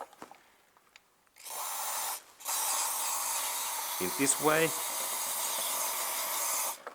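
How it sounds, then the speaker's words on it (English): Short hissing bursts of an aerosol cleaner sprayed onto a Toyota Prius MAF sensor, a couple of quick puffs followed by a long sustained spray, with a brief voice in between. "now I firstly spray this, especially this glass part"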